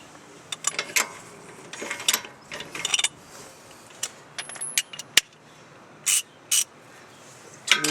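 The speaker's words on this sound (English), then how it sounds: "I'm gonna go ahead and loosen it up, take it out." Ratchet clicking while loosening a bolt on the driver-side air suspension of a Mercedes-Benz S550 (W221), heard in short irregular bursts of close metallic ticks with pauses between, no talking.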